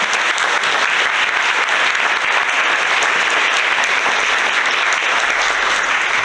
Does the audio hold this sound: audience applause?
yes